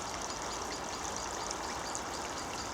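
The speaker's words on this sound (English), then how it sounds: "this is where it all starts, the River Hiss, which then flows into the Ouse eventually up towards Bedford" Water of the River Hiss flowing at its source near Great Offley, a steady, broad rushing hiss that holds an even loudness throughout, with no voices.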